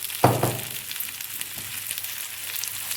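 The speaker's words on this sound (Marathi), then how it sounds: "तर हे मस्त फ्राय व्हायला सुरुवात झालेली आहे, बघू शकता तुम्ही" Pomfret fish frying on a hot tawa in a little added oil gives a steady, close broadband sizzle and hiss, with a brief louder crackle burst near the start.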